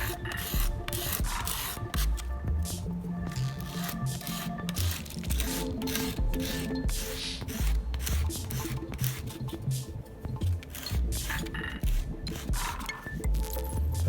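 Sandpaper rubbing back and forth along wooden chopsticks to shape a point, a steady close rasping scrape that continues without pause, with no talking.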